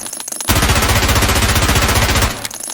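A P90 submachine gun loaded with tracer ammunition fires one sustained, loud, rapid burst lasting nearly two seconds in Escape from Tarkov, then stops abruptly.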